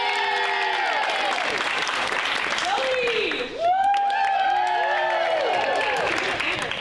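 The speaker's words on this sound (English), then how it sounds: "Give her a round of applause!" Audience applause and cheering at a cast gathering after a musical production, clapping running continuously under voices calling out and overlapping shouts.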